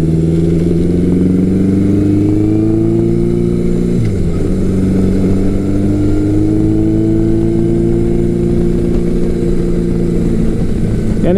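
A big-bore Suzuki GS1100L or Yamaha XJ1100 Maxim motorcycle cruising on an open road, its engine droning steadily up close with one brief dip and rise in pitch as the rider shifts, constant and loud throughout.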